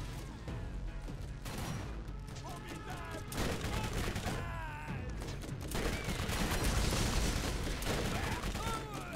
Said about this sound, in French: Pas mal cette grenade. Elle explose quand même assez vite.